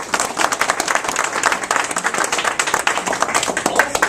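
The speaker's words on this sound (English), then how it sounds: "So again, another round of applause for Jack." Lunchtime audience applauding an award honoree, brisk dense clapping from a modest crowd, close and fairly loud, steady throughout with no talk.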